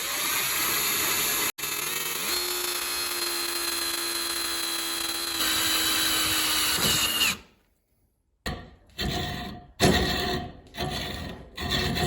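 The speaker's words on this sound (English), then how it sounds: "I'm going to drill through with a 1/4-inch drill bit" A power drill fitted with a 1/4-inch bit bores steadily through aluminium for a bike frame build, a loud continuous whine that holds for several seconds, then stops and gives way to short bursts of drilling separated by pauses.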